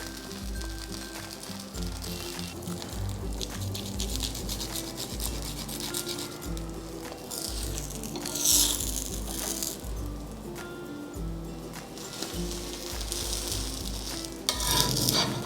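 Butter cheese dosa sizzling on a hot griddle at a Hyderabad street cart while the topping is mixed and spread with a spatula, a steady close hiss with scraping and rattling strokes throughout and a few louder clatters near the end.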